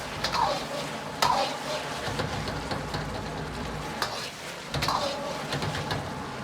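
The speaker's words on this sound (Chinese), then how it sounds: "烧至豆腐粘稠，再倒入葱叶段，翻炒均匀" Tofu with scallion pieces tossed in a wok, a steady sizzle under repeated scraping and stirring strokes, with a few sharp clanks of the spatula against the pan.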